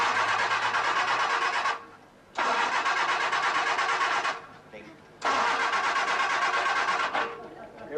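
A car engine cranks over in three long bursts of several seconds each, loud and close, with short pauses between, and never catches and runs.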